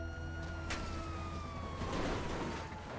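A police siren in the video game GTA V wails with a slowly falling tone over a low engine rumble, fairly close, with a short sharp noise early on.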